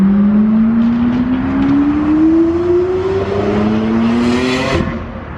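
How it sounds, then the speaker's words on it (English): A Tri-Aero Lamborghini Aventador accelerates hard away from a car show, its engine note climbing steadily in pitch as it roars past close by and then fades off. "Here comes some Lambos."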